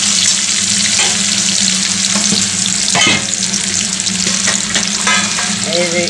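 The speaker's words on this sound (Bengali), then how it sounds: "একটু পেঁয়াজ কুচি দিয়ে দিলাম দিয়ে ভেজে নেব ভালো করে" Chopped onion sizzles steadily in a hot pan, a loud continuous crackle with occasional stirring scrapes and clatters over a low hum.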